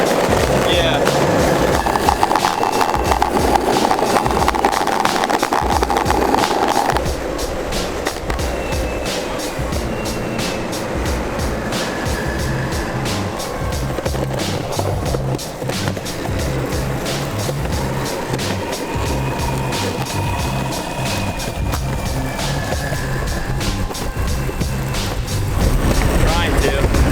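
An enSkate Woboard electric skateboard rolls along with a continuous gritty wheel roar and faint motor whine, while a rider talks over the steady ride.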